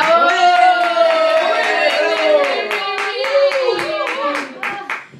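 An audience at a tango concert breaks into rhythmic clapping that fades toward the end, with voices and a sung or called-out line running over the applause.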